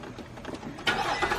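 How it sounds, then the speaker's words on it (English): A 2014 Infiniti QX60 engine cranks and catches partway through, then settles into a steady, close idle after a brief lead-in of quieter background noise. "now that I turn on the car, pump it a couple times."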